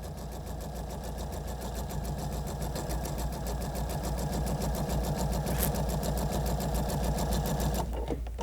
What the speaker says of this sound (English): I'm just going to turn to a scant 1/4 inch and sew right back down the other way.